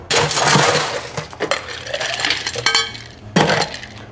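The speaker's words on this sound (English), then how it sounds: "we're gonna add ice to our mixing glass." Ice cubes tumble into a crystal mixing glass for a martini, making a bright clattering burst followed by scattered clinks and a final clink as more ice lands.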